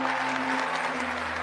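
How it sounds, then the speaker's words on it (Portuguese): An audience at a church event applauds enthusiastically, a steady wash of clapping with a faint underlying hum, without speech. "vamos aplaudir com entusiasmo. Aplaudam todos"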